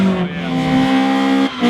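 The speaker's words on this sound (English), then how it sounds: "You really can't beat that ITB sound." Drift car engine with individual throttle bodies revving hard at a drift event, a loud sustained raspy wail holding high rpm with a brief lift and dip before climbing again.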